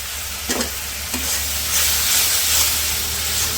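Spices frying in a pan with salt and cumin powder, a close, loud hissing sizzle with a couple of brief stirring scrapes early on and a low hum underneath, no speech.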